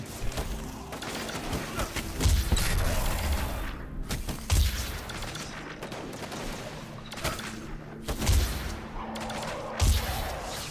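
Automatic weapon fire in Destiny 2 in the Flooded Caverns sounds as repeated loud bursts of rapid shots and heavy booms at irregular intervals over mechanical game noise.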